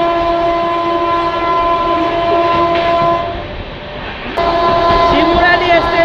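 Express train 13115 speeding past Madanpur near Kalyani, a loud continuous roar of wheels with a droning horn held through most of it, dipping briefly before surging again.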